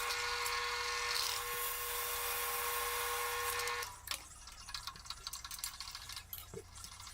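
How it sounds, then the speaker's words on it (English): A 3/8 inch bit bores peg holes in steel for a DIY hanger rig holding two 4.5 inch grinders, a steady close whine running for about four seconds before stopping, followed by faint clinks and shop handling noises. "going up to a 3/8 inch bit here. We're going to use that to drill the holes for the pegs"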